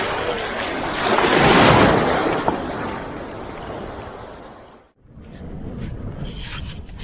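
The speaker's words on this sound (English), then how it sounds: "So this is Sagrado Beach." Waves washing ashore at Sagrado Beach on a Greek island, a loud continuous rushing surf mixed with heavy wind buffeting the microphone, briefly dipping before swelling again.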